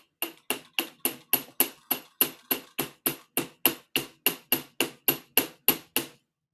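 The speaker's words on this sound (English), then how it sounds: "We're going to hammer this a little bit." A hammer strikes a metal wire pin in an even, steady rhythm: about eighteen sharp, ringing blows, each fading quickly, heard up close with no talking.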